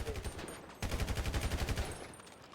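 Rapid bursts of enemy gunfire in a video game turf war. The shots fire in a quick rhythmic volley for about a second, then trail into fainter, scattered shots.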